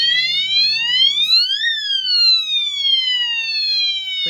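A bicycle LED light with a built-in horn blares an electronic police-siren tone, a loud wail that sweeps up sharply and then glides slowly back down, close and alone.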